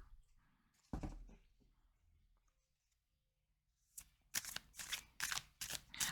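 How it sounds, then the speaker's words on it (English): Tarot cards being shuffled close up, with a single soft riffle early on and then a run of crisp, rapid riffles and snaps near the end, quiet between bursts. "So we're gonna pull cards."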